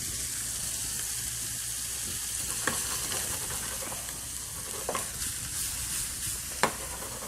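Shrimp coated in blackening seasoning sizzle in a hot pan, a soft, even frying hiss with a few faint stirring clicks and taps, heard without any talking.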